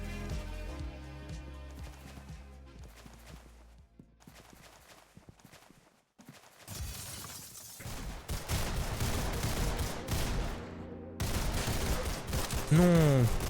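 Rapid gunfire bursts from a shooter video game crackle over game sound and music, growing denser and louder toward the end.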